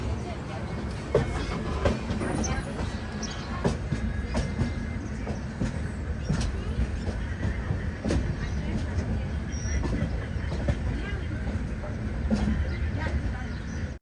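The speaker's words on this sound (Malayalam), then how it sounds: "ട്രെയിൻ ഇതാ ജുനാഗഡ് റെയിൽവേ സ്റ്റേഷനിലേക്ക് എത്തിക്കൊണ്ടിരിക്കുകയാണ്" A train on a curving single track rolls into Junagadh railway station with a continuous rumble, wheel clatter and occasional squeals, heard from on board, with faint voices mixed in.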